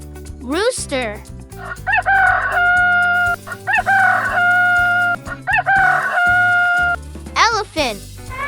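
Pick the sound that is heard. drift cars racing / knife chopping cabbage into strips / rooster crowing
rooster crowing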